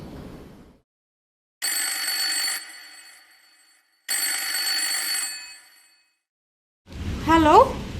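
A telephone bell rings in two long, loud bursts separated by a short silence, followed by a voice speaking.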